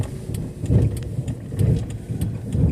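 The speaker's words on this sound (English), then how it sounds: "there's this car that keeps like doing sketchy stuff" A car circles a park at night, its engine a low mid-range rumble that swells and eases in repeated passes, fairly close, with faint ticking in the background.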